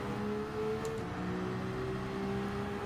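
McLaren VGT race car engine in Gran Turismo, a steady mid-pitched hum at speed, held constant and moderately loud throughout with no talk over it.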